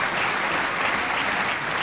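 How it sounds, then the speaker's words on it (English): A studio audience on an Australian football television show breaks into steady, dense applause that holds at an even level throughout, with no talking over it. "Give them a round of applause."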